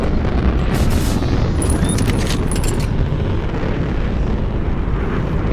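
The Hammerhead suit fires chest torpedoes in a video game, giving a loud, sustained roaring blast with whooshing, high-pitched streaks over a heavy low rumble.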